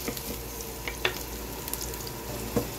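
Garlic and onion sauté in a pan as the base for chicken igado, with a faint continuous sizzle and a few sharp utensil taps and scrapes close by, no voices.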